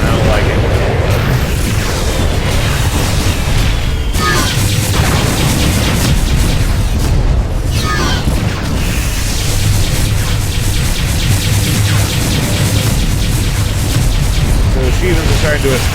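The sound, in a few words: synaptic bomb explosions in the video game Freespace 2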